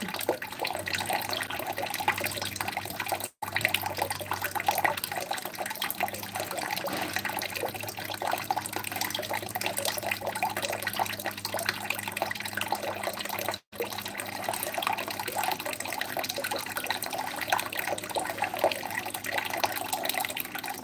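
Water runs steadily from a tap into a container, a constant close splashing and trickling stream that holds even throughout, with two brief dropouts and no talking.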